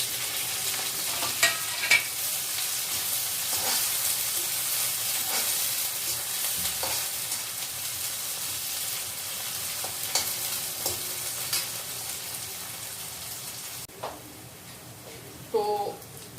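Onion tempering sizzling in hot oil for a whole masoor dal, a steady bright crackling hiss with occasional clinks of stirring, close and continuous, with a few soft voices underneath.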